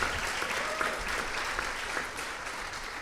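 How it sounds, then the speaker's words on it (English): Audience at the Erasmus Mundus Association general assembly giving a round of applause after a presentation, a fairly faint, steady patter of many hands that tapers slightly toward the end. "A big round of applause for Mr. Giorgio for that presentation"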